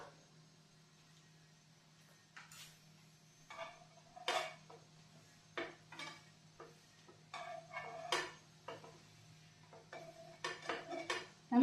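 Cheese bread is turned over in melting butter in a pan, bringing a series of close metallic clinks and scrapes from a spatula at irregular intervals over a quiet background, with only a faint sizzle.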